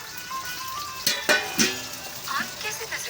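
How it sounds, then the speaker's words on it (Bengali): Fish frying in a pan in a home kitchen makes a steady low sizzle with a few sharper crackles and spatters, close by and fairly quiet, with faint background voices. "এই যে মাছ এখন ভাজার কাজ চলতেছে"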